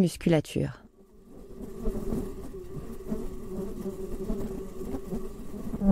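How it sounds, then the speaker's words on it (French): Fruit flies buzzing steadily inside a fly dome cage, a continuous faint insect hum with a fine whine, following a brief spoken word at the start and then running alone. "Alors, c'est le son des mouches à fruits."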